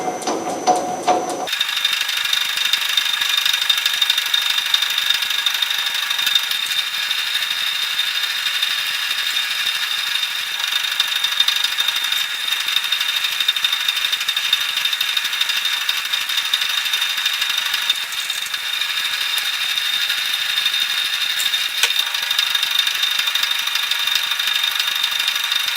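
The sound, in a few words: reaming a bushing for a South Bend 13 inch lathe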